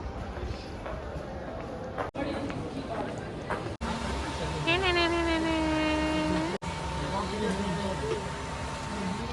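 A train horn blares for a couple of seconds over the rumble and clatter of a railway station, with voices in the background.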